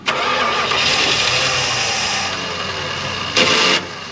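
An old abandoned Dodge van's starter cranks the engine in a loud, continuous whirring grind that slows slightly, then a brief burst of higher cranking near the end, up close with no clear speech.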